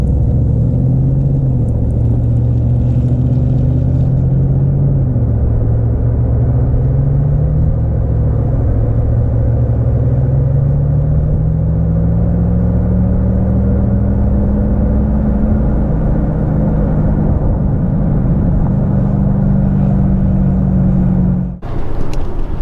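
A red motorcycle or small vehicle drives along a road with a loud, steady engine rumble whose pitch rises and falls gently as it speeds up and eases off, close and continuous for over twenty seconds with no talk.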